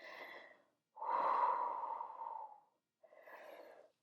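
Breath pushed out slowly during a mat Pilates stretch, three breathy exhales, the middle one long and strongest, close and clear with silence between.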